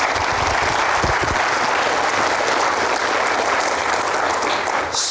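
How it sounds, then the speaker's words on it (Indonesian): Steady applause from a studio audience greeting a young guest on a talk show, dense and continuous clapping that holds at an even level for the whole stretch. "kita berikan aplaus sekali lagi"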